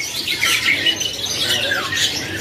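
Caged birds squawk at a kiosk in Pramuka bird market, raspy overlapping high calls running continuously and fairly close for a couple of seconds, with no talk.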